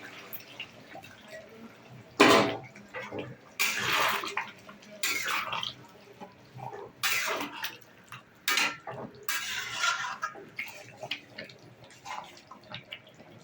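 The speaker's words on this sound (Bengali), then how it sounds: "অল্প একটু গরম জল দিলাম" A little hot water is poured into a pan of cooked-down chicken curry, heard as several separate bursts of splashing and bubbling liquid with quiet gaps between them, close and moderately loud.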